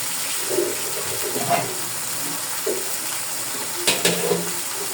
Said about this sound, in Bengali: এখন আমি আইড় মাছগুলো কষানোর জন্য দিয়ে দিব।